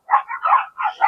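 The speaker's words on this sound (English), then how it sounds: "pardon for the dogs next door. They have like 4 little dogs over there," Several little dogs next door bark in quick, high yips, four or five short barks in a row, fairly loud and close, with no talk.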